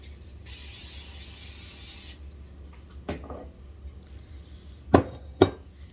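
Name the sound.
spraying down bread dough before baking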